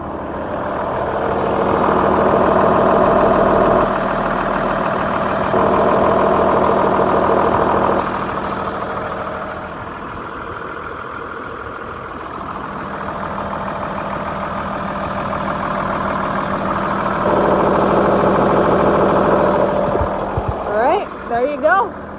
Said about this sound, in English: I'll walk out here so you can hear the engine.